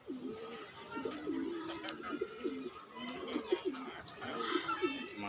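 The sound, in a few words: female pigeon cooing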